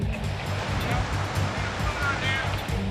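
Fast-rushing water of the LA River during torrential rains, a steady, close, full roar of churning current with no voices.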